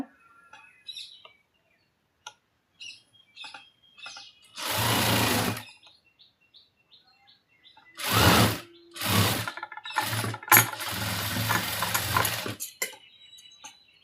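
Sewing machine stitching the shoulder seam of a blouse, heard as several short bursts of whirring, one near the start and a cluster of quicker runs later, separated by quiet gaps with faint handling clicks.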